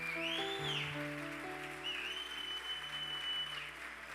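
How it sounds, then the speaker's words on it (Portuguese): A church congregation claps at a family worship service, a dense patter of applause running beneath sustained keyboard or organ chords and a sliding tone that carry through the whole clip. "Você pode aplaudir a Jesus?"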